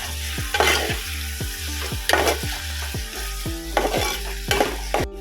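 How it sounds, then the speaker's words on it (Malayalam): Tomato stirred into frying chicken curry: a loud continuous sizzle, broken by rhythmic spoon scrapes against the pan roughly every half second, close up with no voices. "തക്കാളി ഇട്ടാൽ മതി. വീണ്ടും ഇളക്കി കൊടുക്കുക."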